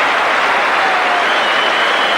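A football stadium crowd at a 1982 Newcastle v QPR match, a loud roar of cheering and clapping that fills the moment evenly, with no commentary over it.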